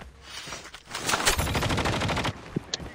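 Rapid gunfire from a shotgun in the mobile shooter Call of Duty Mobile, a dense burst of blasts running for about two seconds at close range, followed by a couple of isolated shots.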